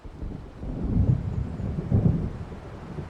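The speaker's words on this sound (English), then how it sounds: "It seems there's a storm coming." Thunder rumbles deep and heavy in the Alan Wake Remastered video game, swelling twice in rolling peaks over a steady wash of stormy rain and wind.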